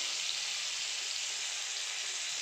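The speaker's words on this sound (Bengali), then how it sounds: "ভালো করে পেঁয়াজটা লালচে আকারে ভাজা হোক" Onions frying in hot oil, browning to a reddish colour in a home kitchen, give a steady, even sizzle that runs unbroken and close throughout, with no talk over it.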